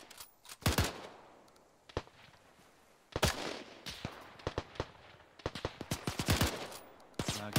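Gunfire crackles in the military shooter Arma 3: sharp, loud bursts and single shots come in irregular clusters, some close and some more distant, across the whole stretch.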